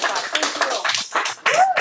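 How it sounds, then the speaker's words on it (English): Audience members clap after a climate change talk at the Driftless Area Wetland Centre, a brief patter of hands mixed with voices speaking over it. "let's give Scott a round of applause"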